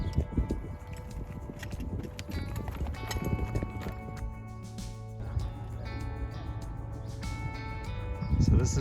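The horse Leroy, under a rider, clip-clops with a steady, close rhythm of hoofbeats while a person talks over the sound.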